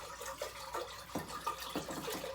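Water poured into a salt brine for a quick carrot ferment, a steady liquid splash and trickle running throughout, fairly soft and close, with no talking.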